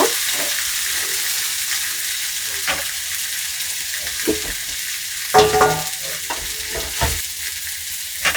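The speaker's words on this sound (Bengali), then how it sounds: "এরপরে আমি দিয়ে দেব সেই ভেজে রাখা সবজি। নেড়ে ছেড়ে নেব।" Fried mixed vegetables stirred into a mustard paste in a pan, with a continuous loud sizzle and scattered scraping spatula strokes, a cluster of clattering stirs near the end.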